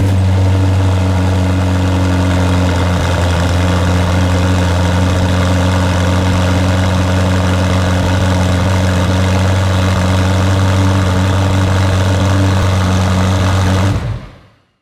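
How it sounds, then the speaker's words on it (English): A 2019 McLaren Senna engine fires up and settles into a steady, rumbling idle in comfort mode, loud and close, with a deep low hum running continuously until it cuts off at the end. "Let's hear how the car sounds with a start-up and then idle in comfort mode."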